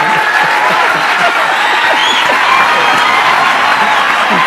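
An audience at a talk show applauds with a dense, steady patter of clapping from many hands, mixed with some cheering and crowd noise throughout.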